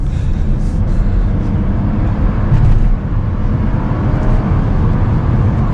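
A car engine drones at heavy, roughly 80–85% throttle while accelerating up a highway on-ramp to cruising speed, with low rumbling engine and road noise heard from inside the cabin.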